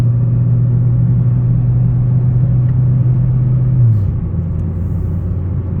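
Steady loud engine drone from a VW MK6 GTI fitted with a big turbo, pulling under wide-open throttle on a highway in Mexico; a constant low hum holds, then the pitch drops as it shifts and continues alone without talk.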